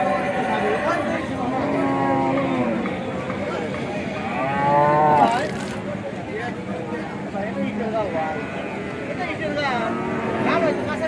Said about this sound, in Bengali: আমরা ইতিমধ্যে দেখতে পেলাম কয়েকটা জার্সি গরু একটা জার্সি গরু আর একটা ফিজিয়াম জাতের গরু